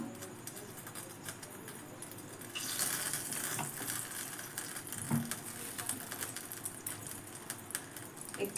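Chicken frying in a little oil for tandoori-style cooking gives a steady, fairly quiet sizzle that swells partway through, with a few soft clatters and bird coos in the background.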